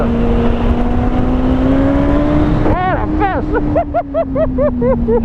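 Kawasaki ZZR 1400 motorcycle ridden on loose dirt, its engine droning steadily and then revving in a quick series of sharp rising bursts as the rear wheel slips and spins, loud and close.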